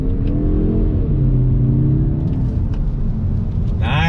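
A 2021 Mazda 3 Turbo with all-wheel drive accelerates under throttle, its engine drone rising steadily and loud close by, with a brief higher whine near the end.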